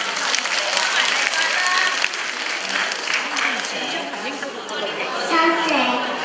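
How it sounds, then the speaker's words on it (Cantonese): Audience applause for children at a Macau community variety show for young and old, a steady crowd clapping throughout with faint chatter mixed in, lively and continuous. "我哋俾啲掌聲俾佢好唔好啊？"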